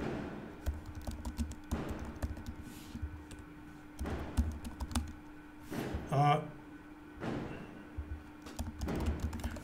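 Code comments are typed on a computer keyboard in scattered clusters of close, soft key taps, while someone talks over much of the typing.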